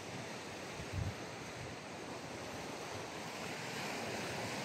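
Sea waves wash along a rocky shore beneath a large boulder, with constant surf and blustery wind buffeting the microphone at a steady moderate level, and no voices.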